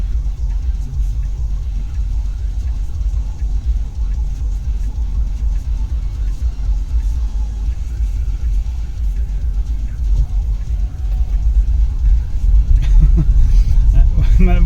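A car driving on roads in Norway, with a low, steady engine and road rumble filling the cabin that swells slightly toward the end, while someone talks.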